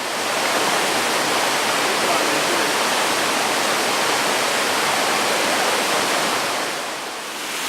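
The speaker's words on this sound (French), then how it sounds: "Ici, c'est une chute." A forest waterfall on the Assok river pours in a dense, steady roar of rushing water, close and loud throughout with no voices, easing slightly at the very end.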